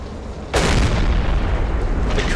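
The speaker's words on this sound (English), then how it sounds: "will be sinking this target by gunfire now" A single loud U-boat deck-gun shot in Silent Hunter 3 booms after a brief quiet moment, followed by a long rumbling decay.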